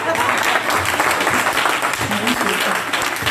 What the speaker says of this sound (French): il faut quand même acclamer pour elle